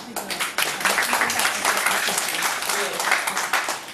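Sustained applause from an audience at a lecture and dialogue event, thanking a teacher, with dense clapping filling the whole stretch and voices mixed in underneath.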